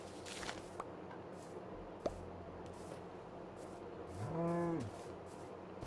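A single Minecraft cow lets out one short, tonal moo late on, preceded by faint scattered clicks and footstep-like taps in a quiet game scene, nobody talking.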